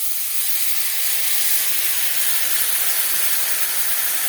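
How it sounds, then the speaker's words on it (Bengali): Spice paste, already mixed with salt and turmeric, spits and hisses in hot oil in a pan, a steady, loud, even sizzle with no talking over it. "এখন আমি তেলের উপরে মশলাটা দিয়ে দিব"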